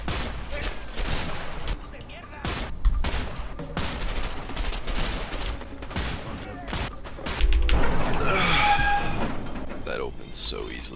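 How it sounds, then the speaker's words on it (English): Rapid bursts of gunfire in a prison-escape video game, loud sharp cracks scattered through the clip with some clustered volleys, alongside door and movement noises and someone talking over the action. "Did that man just plop his gun down and fire a shot before aiming?"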